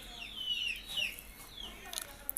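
Chickens clucking around a home yard, with a few squawky calls in the first second and scattered short clucks later, moderately near over a quiet rural background.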